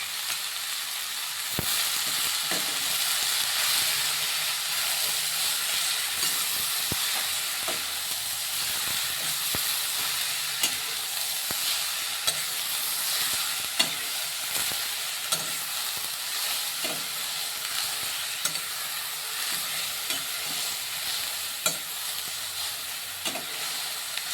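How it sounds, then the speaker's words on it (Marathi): Shredded cabbage stir-fried in a pan for a simple Marathi-style sabzi, giving a steady close sizzle with frequent scraping clicks of the spoon stirring the vegetables throughout. "मस्त मिक्स करून घेऊ सगळे पत्तागोबी"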